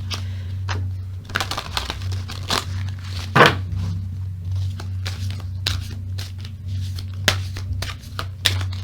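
Large tarot cards being shuffled by hand, giving a run of quick papery riffles and soft flicks with a steady low hum underneath; close up, with no talking.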